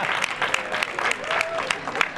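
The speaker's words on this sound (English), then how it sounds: "That's when you're supposed to applaud, you guys." An audience applauds during a VOICE 2012 special show: a short, dense burst of many hands clapping, fairly close and full throughout.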